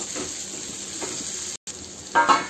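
Okra sizzling gently in oil on low heat, with a soft continuous frying hiss, a few light stirring touches, a brief dropout, then a louder scrape near the end; no speech.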